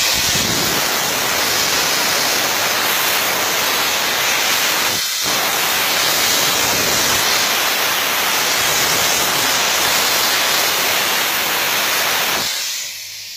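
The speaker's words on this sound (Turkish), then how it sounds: "Buhar temizlik abi. Buhar temizlik." A steam car-cleaning machine sprays steam onto a car door, giving a loud, continuous close hiss that breaks briefly once midway and then cuts off near the end.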